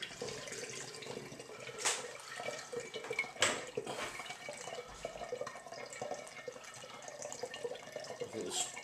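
A litre of orange juice poured into a container, giving a soft, continuous liquid trickle and splash with a few brief clinks and knocks, quiet and close, no talk.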